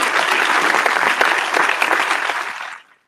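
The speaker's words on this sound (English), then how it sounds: "I feel like we need a round of applause at that point." Audience applause at a marketing forum presentation, a steady dense wash of claps at full strength for a few seconds before fading quickly to silence.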